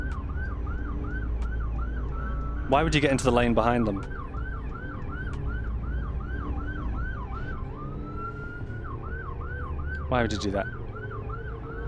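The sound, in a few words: emergency vehicle sirens in Euro Truck Simulator 2 video game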